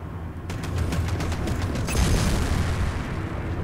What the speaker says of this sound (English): Bring your reticule in line with the target and fire your cannons